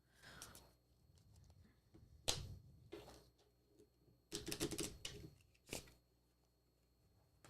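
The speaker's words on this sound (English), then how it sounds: "Nice shuffle." Tarot cards are shuffled in several quick riffling bursts, close and crisp, separated by short quiet gaps in an otherwise hushed room.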